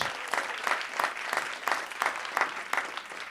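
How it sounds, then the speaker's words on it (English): Audience applause for poet and songwriter Tia Sillers at an evening of poetry and reflection, a steady crackle of many hands clapping up close, swelling in regular pulses and carrying on alone without voices. "Another round of applause for Tia Sillers"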